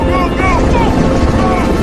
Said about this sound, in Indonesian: diselamatkan oleh Stephen yang datang dengan menggunakan helikopter